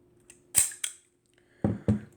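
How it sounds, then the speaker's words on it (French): Shutter of a vintage Rectaflex Standard 1300 film camera with Xenon 50mm lens being cocked and released at the 1/300 setting, giving a pair of sharp mechanical clacks followed by two heavier clunks, close and alone. "Donc on arme l'appareil. On déclenche."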